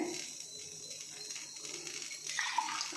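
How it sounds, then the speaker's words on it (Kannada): Brief splashing and trickling of a glass of water poured into a pot of milk for rice payasam, with faint metallic clinks, close and moderately quiet. "ಒಂದು ಗ್ಲಾಸ್ ನೀರು ಹಾಕ್ತಾಯಿದ್ದೀನಿ"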